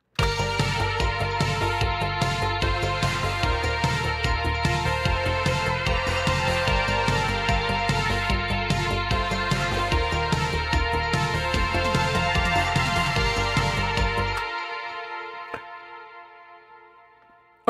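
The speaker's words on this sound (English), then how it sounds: "This thing started with a main stack that sounds like this." A synthwave main synth stack plays a loud, dense, rhythmic chordal pattern with pulsing repeated notes, then cuts off and rings out into a fading tail.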